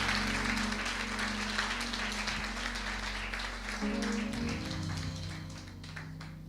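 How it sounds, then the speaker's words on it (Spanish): Church congregation applauding during a Spanish-language Sunday service, a dense, steady wash of clapping that carries on throughout with a low organ-like tone beneath, slowly easing near the end. "¿Cuántos les dan un aplauso al Señor por su maravillosa palabra?"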